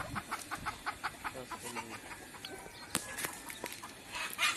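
Chickens clucking in a steady, repeated rhythm nearby, with occasional sharper calls and faint background rustling.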